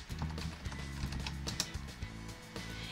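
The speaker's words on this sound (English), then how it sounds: "I'm going to type in DaFont" Keys on a computer keyboard are typed in a quick, irregular run of soft, close clicks and taps, fairly faint against quiet room tone.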